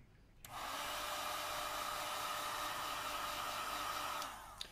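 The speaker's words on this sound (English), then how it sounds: "We use a heat gun again here because of the battery adhesive." A heat gun blows steadily while softening the battery adhesive inside a Sony Xperia Z3, a sudden switch-on followed by a constant, close whooshing hum for about four seconds before cutting off.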